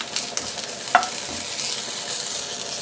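Ginger garlic paste fries with onions in a pan, a soft continuous sizzle held at an even level, with a single sharp utensil tap partway through and faint scraping; no talking.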